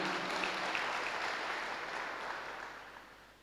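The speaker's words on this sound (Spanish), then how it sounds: "Dale un aplauso a Cristo si le vas a aplaudir, porque no es para mí." Church congregation applauding during a Sunday service, a broad steady wash of clapping from a large room that stays fairly even and slowly tapers off.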